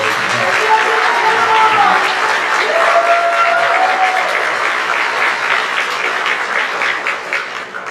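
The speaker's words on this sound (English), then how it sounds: "If you give a round of applause for our work." Audience clapping at a middle school percussion concert, a loud, dense round of applause that holds steady across the clip and thins slightly at the end.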